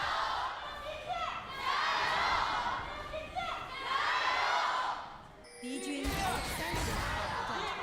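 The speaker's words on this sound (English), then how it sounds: "Passionate crowd today. You love to hear it." An esports arena crowd at an LPL match roars and cheers in rising swells, loud and sustained, with a commentator's voice cutting in near the end.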